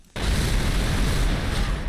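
A loud, sustained rumbling blast of explosive ammunition in the video game Turok 2 fills the clip after a brief quiet start, dense and booming throughout.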